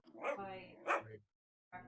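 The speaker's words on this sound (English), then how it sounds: "Is that a dog?" A dog barks a few times nearby indoors, short yips and barks with a pause between bursts, fairly faint and alone.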